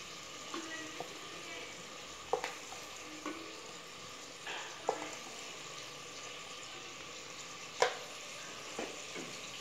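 A spoon stirs goat head curry with chili powder in a pan, making soft, intermittent scraping knocks every second or so over a faint, continuous sizzle, heard close and fairly quiet with no talk.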